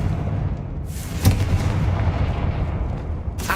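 A Confringo fire spell blasting in Hogwarts Legacy, heard as a sharp booming impact followed by a rumbling wash of combat noise and a second burst near the end, loud and close, with no talk.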